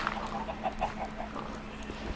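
Chickens clucking in a farm video game, a series of short, soft clucks spaced irregularly over a steady background hum, with horses and pigs also kept nearby.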